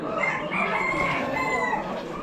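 Chickens at an Amish poultry auction, silkies among them, make a dense, steady din of crowing and clucking that fills the whole stretch, fairly loud and close.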